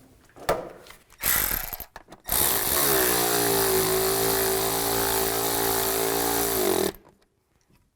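A power tool drives bolts on a Nissan Xterra air intake, with a couple of short bursts and then one long steady whirring run of several seconds that ends abruptly, close and loud, with no talking.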